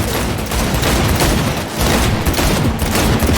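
Dense, continuous gunfire blasts loudly through a firefight in the video game Cyberpunk 2077, with rapid overlapping shots and bursts filling the whole stretch without pause.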